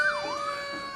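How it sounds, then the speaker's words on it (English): Fire truck sirens wailing during a July 4 parade in Waupaca, a steady rising and falling tone with layered harmonics, clear and fairly loud with no talk over it. "here come the big trucks with the big sirens and the big lights."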